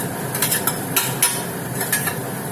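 Tomatoes, onions and curry leaves are stirred in a pan for a prawn and drumstick curry, giving soft scraping and light spoon clinks against the metal over a low, steady sizzle.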